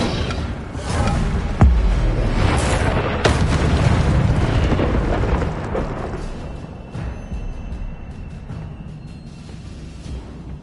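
Incendio fire spell cast in the Hogwarts Legacy video game, heard as heavy whooshing booms and fiery bursts in a close, loud battle sequence that gradually fades into a softer rumbling tail.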